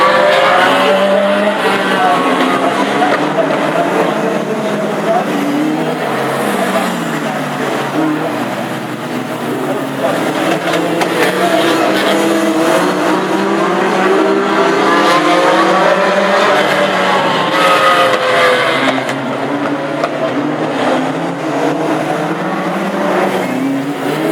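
Classic hot rod race cars circling a small oval track at Aldershot on installation laps, engines droning loudly and continuously with shifting pitch as they pass, tyres squealing at times, with crowd and track ambience throughout.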